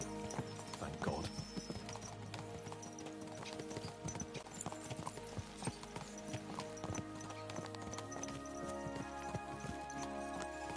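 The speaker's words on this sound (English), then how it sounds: "Let's really spur these horses on, eh?" Horses' hooves clip-clop steadily at a gallop in the medieval game Kingdom Come: Deliverance II, with a brief whinny, tack jingling and ambient background music layered throughout the run.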